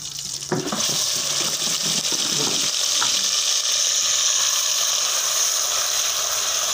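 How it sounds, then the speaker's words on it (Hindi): Steady oil sizzle with garlic browning in a pan before saag greens are added, a few clinks of stirring early on, continuing evenly and fairly close. "थोड़ा सा लहसुन को ब्राउन होने देंगे तो फिर डाल देंगे सारा साग"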